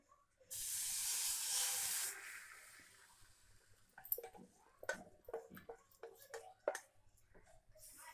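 A pomegranate mixture hits hot ghee and sizzles in a loud, steady hiss for about a second and a half. Scattered spoon and pan clatter follows as cooking continues.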